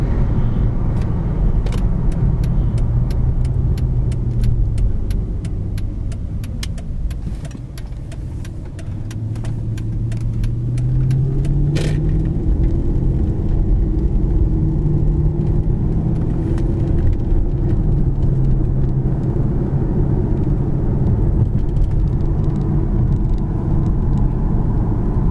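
Steady interior drone of a 2009 Mercedes-Benz S550 cruising at speed, a low engine and road rumble with gentle rises in pitch as it accelerates, plus scattered light clicks over the smooth, constant hum.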